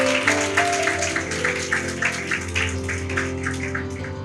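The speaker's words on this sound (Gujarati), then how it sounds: "તો જોરથી તાળી વગાડી શકો છો ઈસુ ખ્રિસ્ત માટે." A church congregation claps loudly for Jesus Christ during a Gujarati service, the rapid, rhythmic clapping steady and close over a sustained musical tone.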